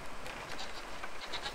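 Goats bleat in the video game Brothers: A Tale of Two Sons, a few short, fairly quiet calls over a soft ambient game backdrop.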